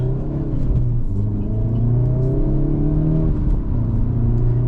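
2025 Hyundai Elantra N pulling away, its engine a steady low rumble that rises and shifts in pitch as it accelerates, heard from inside the cabin with no talk.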